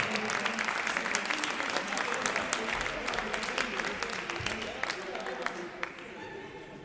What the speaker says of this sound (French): On peut les applaudir bien fort et remercier pour les bières.